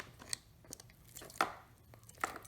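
Knife trimming the scaly surface off a goat tongue, giving a few soft, sparse cutting and scraping sounds close by in a quiet room, with one sharper stroke in the middle.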